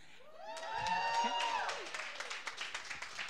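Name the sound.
audience applause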